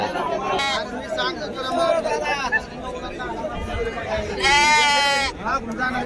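Sheep bleat in a busy, crowded sheep market at Kashti, with one clear wavering bleat standing out over steady crowd chatter and nearby people talking.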